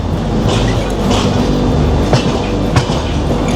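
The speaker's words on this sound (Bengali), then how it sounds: "আমাদের ট্রেন এখন জম্মু প্ল্যাটফর্মে প্রবেশ করছে" The Jammu Tawi Express rumbles and rattles loudly as it rolls slowly into the Jammu platform, with a few sharp metallic clanks and squeals over the steady low roar.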